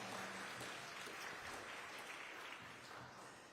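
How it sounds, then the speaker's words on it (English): Faint applause from an audience at a political gathering, a steady wash of clapping that stays distant and low for a few seconds. "Let's give her another round of applause"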